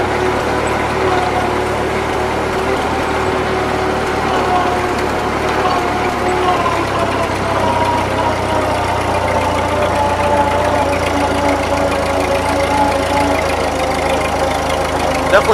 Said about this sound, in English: you hear like it has like a little tink or a little pop to it on one